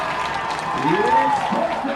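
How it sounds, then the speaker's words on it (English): Loud crowd noise from a high school football game between Herriman and Lehi, a steady roar of cheering and applause that swells midway, with no one speaking over it. "The crowd is loud."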